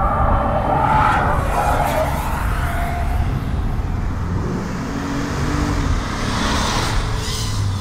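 An Opel Mokka or Suzuki Ignis Sport accelerating through a timed track lap, giving a steady, fairly quiet whir with tyre and road noise heard from inside the car and little engine character.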